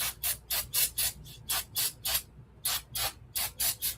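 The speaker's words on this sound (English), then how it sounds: "I'm spraying brake clean on it" Brake cleaner hisses out of an aerosol can in a run of about a dozen short, sharp spray bursts, close and fairly loud, with brief pauses between them and a longer gap partway through, over a low background hum.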